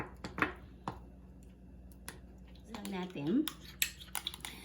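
A spoon mixes Japanese mayo, cream cheese and sriracha in a bowl, making sparse clinks and scrapes against the dish, with a louder cluster of taps and squishy stirring near the end.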